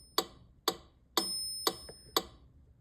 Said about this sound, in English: That's the metronome.